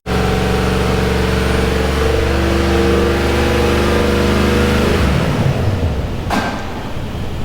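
A Mercedes W205 C63s engine runs loud and steady at first. After about five seconds it settles and fades toward a quieter idle, with a brief sharp click near the end.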